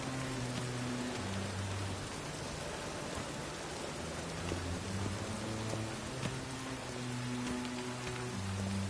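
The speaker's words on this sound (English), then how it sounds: "I like rain." Steady rain falls and patters on surfaces in an even, continuous hiss for several seconds, moderately quiet, with faint low tones humming underneath and no talk.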